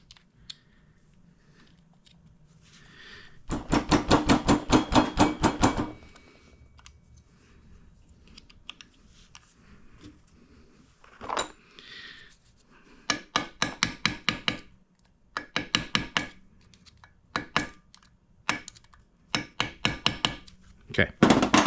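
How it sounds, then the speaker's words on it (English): Metal tapping on the locking tabs of a Vespa Rally 200 nut, sharp rapid bursts of hammer-like strikes in several clusters, close and loud, with short pauses between groups. "I'm going to bend those tabs out so I can actually loosen the nut"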